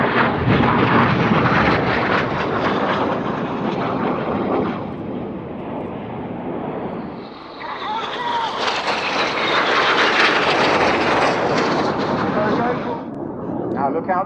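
Seven Red Arrows jets in a flying display at Yeovilton Air Day sweep past, a loud continuous roar that surges and fades as they pull up and pass, with a commentator talking over it.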